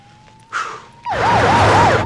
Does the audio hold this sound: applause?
no